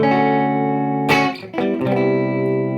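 An electric guitar played through a Walrus ACS1 amp simulator pedal, sustained chords ringing with slight breakup, a couple of sharp restrikes midway, close and clear.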